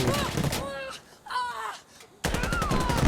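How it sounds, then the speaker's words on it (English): Gunfire from a competitive tactical shooter video game match, with bursts of shots and a grenade exchange at the close of a round, heard under steady caster commentary with a quieter gap in the middle. "Everybody kind of shoot each other at the last second there."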